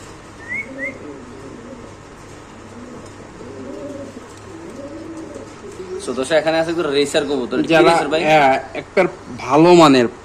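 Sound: pigeon cooing in breeding mood

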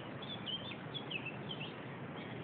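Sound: birds singing outdoors

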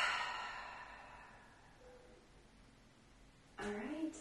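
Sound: full exhale out of the mouth

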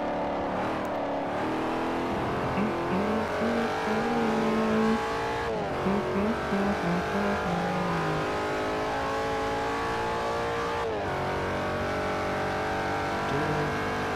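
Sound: Porsche 918 car engine racing in video game Forza Motorsport 4

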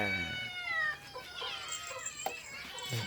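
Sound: cat meowing

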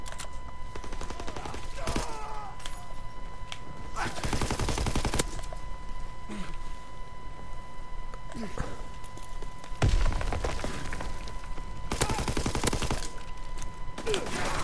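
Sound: gunfire in Call of Duty WW2 video game

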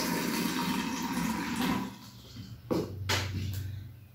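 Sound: pouring water into an empty bottle

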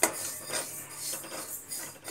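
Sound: dry-roasting moong dal in a wok

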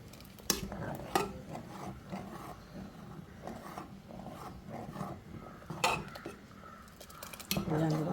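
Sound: stirring masala rice porridge in a pot

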